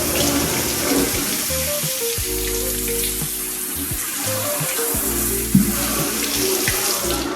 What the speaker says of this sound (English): I'm gonna wash them again, so you can wash the fish off.